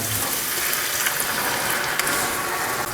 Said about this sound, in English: then I'm going to add the wine. I'm going to deglaze the pan.